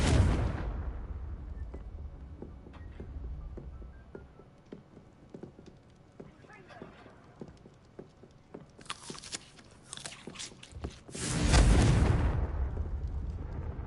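A Confringo blasting curse in Hogwarts Legacy sets off a loud explosive burst at the start, a stretch of crackling debris patter, then harsh bright blasts and a heavy rumbling boom toward the end.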